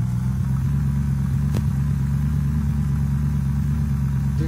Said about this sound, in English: Dude, this car sounds like shit.